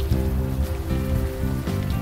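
Rain falls on a city street in the adventure game Unavowed as a steady soft hiss, layered over a low, sustained musical drone.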